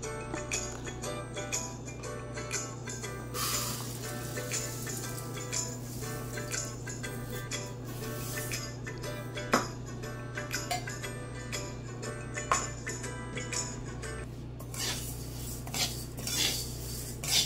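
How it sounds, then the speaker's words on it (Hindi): Flaxseeds roasting in a hot pan while being stirred, metal utensil scraping and ticking against the pan steadily under a constant low hum, with no talk. "सबसे पहले हम एक पैन गरम करते हैं और उसमें तीसी को डालकर"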